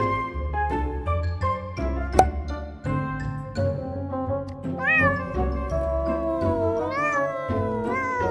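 A cat meows several times, drawn-out rising and falling cries near the microphone, over a background of music with bright tinkling notes.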